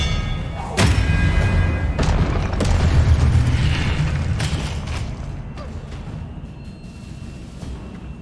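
A spell cast in the video game Hogwarts Legacy lands as a loud, close booming thud with a sharp attack and long rumbling tail, followed by further softer impacts and mechanical clunks.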